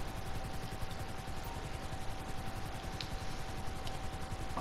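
A helicopter in Grand Theft Auto Online thrums with a steady rotor chop, moderately loud and continuous, with faint game effects in the background.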